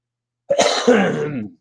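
A man coughs once, a short rough burst lasting about a second, close and fairly loud against silence.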